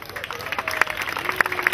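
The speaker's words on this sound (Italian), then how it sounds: "Un bel applauso." Audience clapping at an award ceremony for a football tournament, a steady patter of applause from a gathered crowd with a few sharper claps, while a voice speaks over it.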